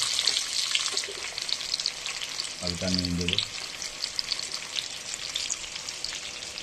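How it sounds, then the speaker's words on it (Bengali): Potatoes fry in hot oil with cumin and dried red chilli tempering, a steady loud sizzle running throughout while a voice speaks briefly partway through. "এবার আলুটা ভেজে নেবে।"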